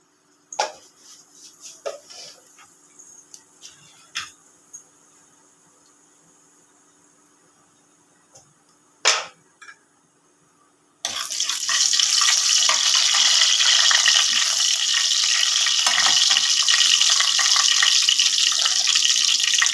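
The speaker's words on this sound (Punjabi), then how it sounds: "ਜੀਰਾ ਤੇਲ ਹੋ ਗਿਆ ਗਰਮ ਹੁਣ ਆਪਾਂ ਪਾਵਾਂਗੇ ਜੀਰਾ" Cumin seeds are tipped into hot oil for paneer bhurji. Faint clicks and light kitchen knocks give way to a loud, dense, continuous sizzle that keeps going strongly to the end.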